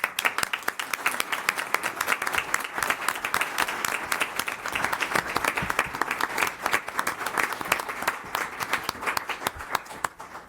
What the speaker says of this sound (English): Please join me in thanking the candidates with our applause.